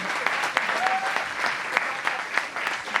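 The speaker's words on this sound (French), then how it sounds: "on peut applaudir Camille et le schmilblick s'il vous plaît." Live audience applause at a French comedy stage show, a dense continuous clapping crowd with a few sharper individual claps standing out, steady and fairly loud throughout.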